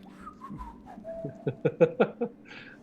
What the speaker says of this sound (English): I'm gonna start whistling suspiciously.